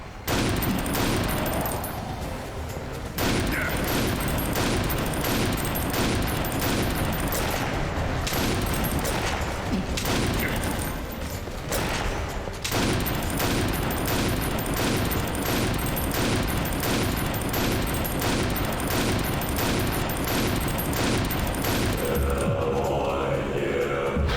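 Rapid alt-fire weapon gunfire in the Painkiller: Overdose video game, a loud, dense, continuous stream of evenly spaced shots with brief pauses, running nearly unbroken for the whole stretch.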